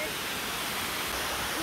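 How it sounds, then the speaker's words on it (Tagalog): A man-made waterfall pours in a dense, even wash of rushing water, loud and close, with a voice faintly mixed into the roar. "Sobrang ganda po ng man-made waterfalls nila"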